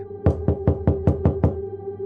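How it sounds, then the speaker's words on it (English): Seven evenly spaced knocks on a door, close and clear with a hollow woody thud, in a steady quick rhythm over a faint low hum, with no talking. "Then came a gentle knock"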